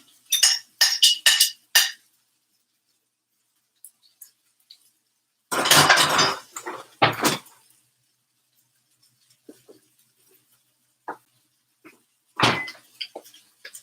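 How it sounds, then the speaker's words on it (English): Baked red sweet potato going into a pan, heard as scattered close clinks and knocks of utensil against cookware in a few separate bursts with quiet gaps between, no talk. "So I'm just gonna put it in the pan."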